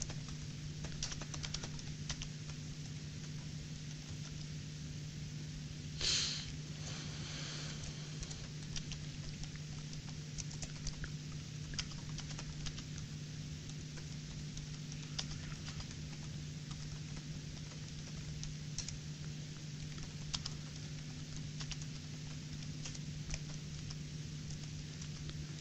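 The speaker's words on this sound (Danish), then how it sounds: "jeg skriver lige en overskrift på min ansøgning" Typing on a computer keyboard produces a long stretch of soft, irregular key clicks at close range, with one louder clack early on, over a steady low electrical hum.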